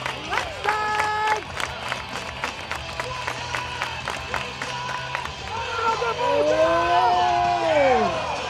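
A hometown stadium crowd claps in steady rhythmic unison for a shot putter's attempt, the beat holding for several seconds before giving way to a rising groan and murmur, with a voice talking over it.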